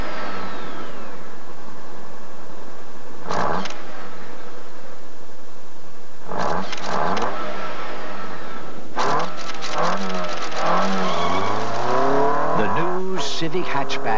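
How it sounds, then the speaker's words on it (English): A 1992 Honda Civic Hatchback Si drives past in several loud passes, each a rising then falling engine roar with a Doppler sweep, closing in a dense burst of revving, with a voice talking over the sound. "Civic Hatchback SI."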